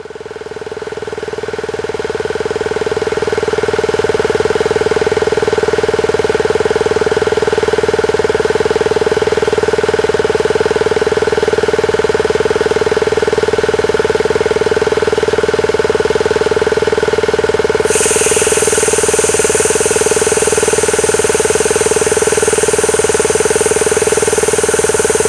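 A 110-volt Daystate air rifle compressor rated to 4,500 PSI runs continuously, a steady loud motor drone with a fixed whine, pressurizing an air cylinder; a higher hiss joins abruptly partway through and holds to the end.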